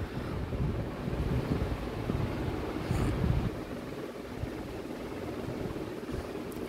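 Water fountain in Happy Valley Park, a steady broad rush of falling water mixed with wind buffeting the microphone, continuous and moderately loud with no voices.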